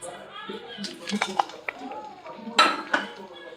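Metal ladle clinking against a cooking pot while making chicken biryani in a home kitchen, several sharp clinks and scrapes close by, mixed with people talking.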